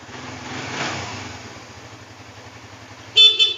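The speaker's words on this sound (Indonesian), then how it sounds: "Klakson" A 2018 Suzuki GSX-R motorcycle idles with a low, throbbing putter, then a loud, close horn beep sounds near the end, followed by a second short toot.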